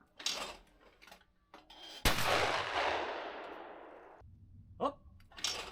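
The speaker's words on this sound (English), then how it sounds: "we have to go to the shooting range and make a test shooting" A single loud close shotgun blast from an ATA Arms Neo 12 semi-automatic shotgun at an outdoor shooting range, with a long rolling echo that decays over about two seconds; brief voices and a clack precede and follow it.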